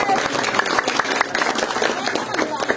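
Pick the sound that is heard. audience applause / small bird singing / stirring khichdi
audience applause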